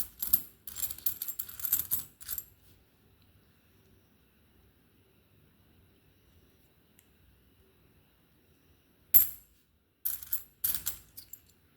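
Copper-nickel commemorative one-rupee coins being handled, clinking and rattling in two short bursts, with a long quiet stretch between them.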